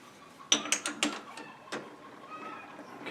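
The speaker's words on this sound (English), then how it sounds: "And we'll unchuck this from the lathe," Unchucking a workpiece from a lathe's 3-jaw chuck, a close run of sharp metallic clicks and ratcheting clanks in quick succession, followed by a few softer scrapes and knocks.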